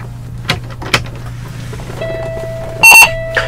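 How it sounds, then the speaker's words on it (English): A Class A truck's key turns the ignition on in the cab: a few soft clicks, then a sustained electronic warning chime with a brief louder beep near the end, heard close and alone. "I just turn my key and ignition on."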